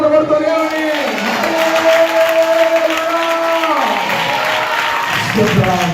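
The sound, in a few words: congregation clapping hands in church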